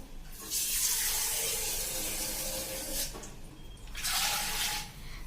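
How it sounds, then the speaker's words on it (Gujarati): Water pours steadily into an old clay pot, a continuous splashing rush that breaks off briefly and then resumes in a second shorter pour. "આમાં જે આપણે અત્યારે થોડુંક પાણી હું નાખી દઉં છું"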